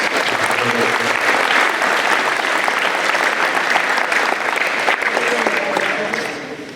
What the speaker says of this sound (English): give the PTO a round of applause for all their support and efforts